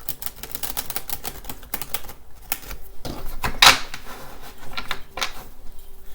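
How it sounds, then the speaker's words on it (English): A Rider-Waite tarot deck given a quick hand shuffle, producing a series of close, crisp card slaps and riffles in an irregular rhythm, with no talk. "So I'm just going to give these a quick shuffle."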